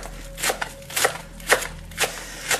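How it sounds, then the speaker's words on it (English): A very sharp knife slicing cabbage finely for kimchi on a board, giving crisp, evenly spaced cuts about every half second, close and clear with no talk. "So I'm ending up with some very finely cut cabbage because it's a very strong sharp knife I'm using"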